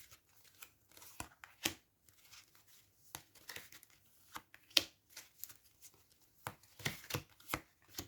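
Playing cards being drawn and handled during a card reading: a run of brisk crisp flicks, slides and shuffling snaps, close and fairly quiet, with short pauses between bursts and no talking.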